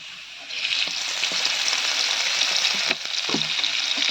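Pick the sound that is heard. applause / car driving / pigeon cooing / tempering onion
tempering onion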